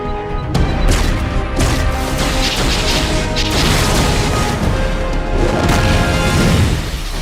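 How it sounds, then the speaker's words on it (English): Dense barrage of artillery explosions in a superhero battle, loud booms and crashes overlapping continuously with rumbling debris, no clear gaps between blasts. "Cyborg, concentrate fire on Luthor while I call down some artillery."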